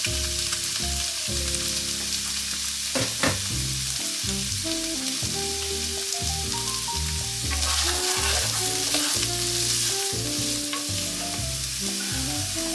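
White onions fry in olive oil with a constant bright sizzle, while stirring clatter and irregular tonal pan scrapes sound close by over it.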